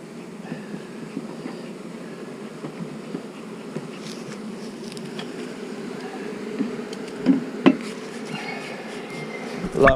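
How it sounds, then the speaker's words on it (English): Honeybees buzzing around an open hive, a dense continuous drone of many wings close by, with a few sharper taps and clicks near the end and no talking. "A lot more bees in this one."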